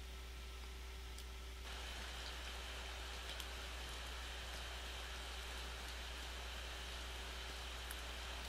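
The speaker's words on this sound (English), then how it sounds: "It's raining, huh?" Steady rain in the horror video game Corpse Party, a soft continuous hiss with faint patter over a low hum, alone with no talk.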